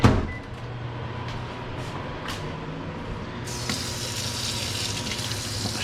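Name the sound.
water running at the sink for washing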